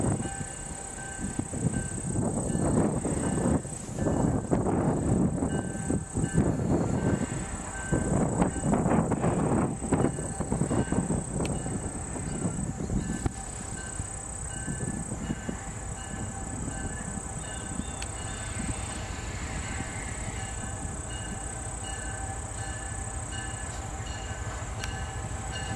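A train rumbles past for a long stretch, heavy rolling clatter of wheels on rails swelling and fading, with a steady high whine above.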